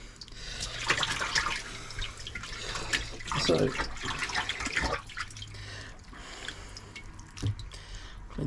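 Blue cod fillets rinsed under running salt water, a close splashing, trickling wash with uneven bursts and drips as the fish is handled, with one brief spoken word.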